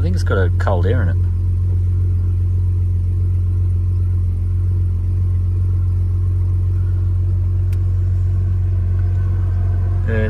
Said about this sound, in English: God, this thing sounds good. It does actually sound really good.